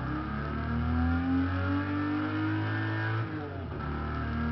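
A Lotus engine in Test Drive Unlimited 2 holds a sustained mid-pitched rev that rises slightly, dips briefly near the end, then continues, loud and close with no talk.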